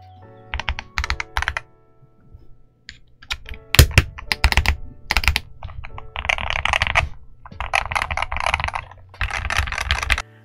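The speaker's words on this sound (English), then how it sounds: "Now, the stock sound of this keyboard is actually quite nice. It's a very deep." Keys of a Boyi66Pro HE 65% wired mechanical keyboard clack in quick bursts of typing, close and crisp, with short pauses between runs and no talking.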